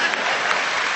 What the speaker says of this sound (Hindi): इधर से तालियां कम बज रही हैं